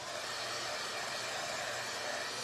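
A dryer blows steadily on freshly sanded parts for a DIY surfboard wagon, a close, even, unbroken airy whoosh with no talk.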